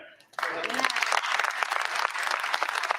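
Applause fills the U.S. House chamber, many hands clapping steadily and fairly close after a brief pause, while a speaker's voice is heard at the outset.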